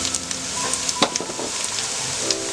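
Jackfruit seeds frying in oil with lightly browned onion and garlic crackle and spit in the pan, with scattered sharp pops over a low steady sizzle and no talking.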